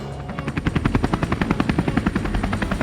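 Harold the helicopter from a Thomas and Friends parody approaches with a rapid, rhythmic rotor chop that stays steady and fairly loud throughout, with no talk over it.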